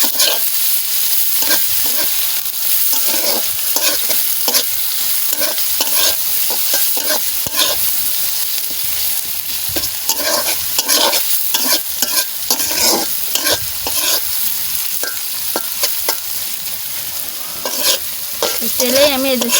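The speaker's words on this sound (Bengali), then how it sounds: "তেলেই আমি এই যে পেঁয়াজ ছেড়ে দিয়েছি, আর একটা তেল দিচ্ছি। আগে পেঁয়াজটা ভেজে নেবো আমি।" Onions frying in hot oil in a pan, a loud steady sizzle broken by frequent scraping stir strokes throughout, close up with no talk.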